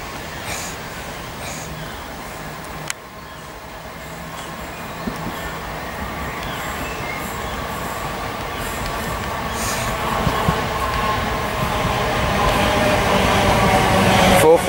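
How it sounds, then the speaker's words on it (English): A Gatwick Express class 442 electric train runs through Preston Park Station, a low rumbling roar that builds steadily louder as it approaches, with a sharp click near the start and a faint voice briefly over it. "There comes Gatwick Express, class 442."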